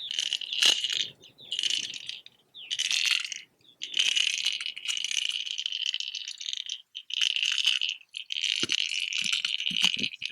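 A Bandit crankbait lure's knocker rattles and clatters as it bumps over rocks underwater, recorded by hydrophone: bursts of bright, gritty clicking in uneven runs separated by short silences, close and fairly loud.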